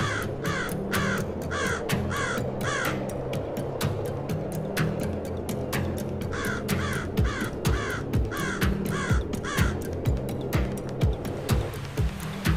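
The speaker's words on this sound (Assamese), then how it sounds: "এই বুলি কৈ কাউৰীয়ে সাগৰৰ ফালে উৰা মাৰিলে।" Cartoon-story crow sound effect: loud, repeated harsh caws in a steady rhythm throughout, layered over a low looping musical backing.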